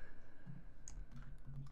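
Fingers type on a computer keyboard, with quick, light key clicks in an irregular rhythm, close and fairly quiet.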